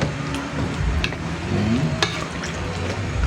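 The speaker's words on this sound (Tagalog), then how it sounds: "ikot-ikot lang natin yan, halo-halo" Duck caldereta with garbanzos being stirred in a pot, a soft continuous simmer and sizzle with scraping spoon sounds, close and steady, no talking.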